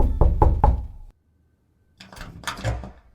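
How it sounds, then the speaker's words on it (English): Three firm knocks on a wooden door in quick succession in a radio drama, then a pause, followed by muffled thumping and shuffling. "I knocked."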